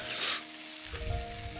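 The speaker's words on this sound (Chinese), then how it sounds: "跟住我哋将啲红椒丝轻轻炒一炒佢" Red pepper strips stir-fry in hot oil in a pan, a loud close sizzle with a brief hiss of oil, followed by lower scraping as they are tossed.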